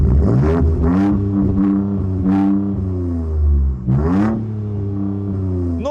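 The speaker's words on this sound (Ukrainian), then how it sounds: "спортивна вихлопна система Ford Performance, яку можна налаштовувати за рівнем гучності" A Ford Ranger Raptor pickup's adjustable Ford Performance sports exhaust rumbles deep and loud up close, the engine revving up several times in sharp bursts over a steady growling idle.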